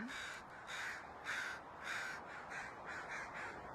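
Crows cawing back and forth in a steady series of loud, harsh calls, several overlapping at close range with a faint background hiss.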